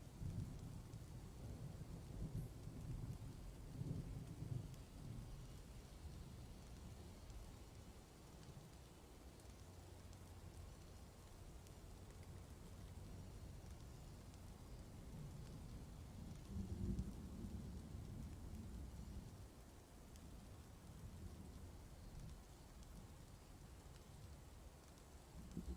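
Steady rainfall patters on stone inside a fortress-building game, with low rumbles of thunder rolling in twice beneath the continuous hiss; the whole scene stays soft and distant, with no voices.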